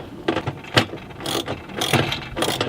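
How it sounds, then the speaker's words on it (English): A hand ratchet tightens fasteners during a hose reel installation, giving close repeated bursts of rapid clicking and grinding in an uneven rhythm, with no talk over it. "we're just going to use our ratchet here"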